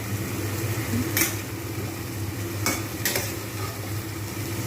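Spice paste with tomato and caramelized sugar frying in oil for patal paneer, a steady low sizzle with a few louder stirring scrapes of the spoon in the pan, close and continuous with no talking.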